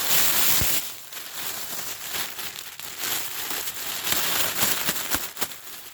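Loud, close crinkling and crackling of a thin mylar space blanket being handled, with sharp snaps scattered throughout.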